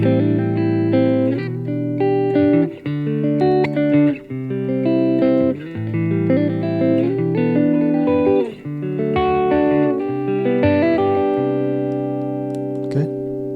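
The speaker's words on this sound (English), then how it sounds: "the chord progression will probably sound something like this" An electric guitar strums a slow progression of chords, each ringing out before the next change, clean and steady with no voices.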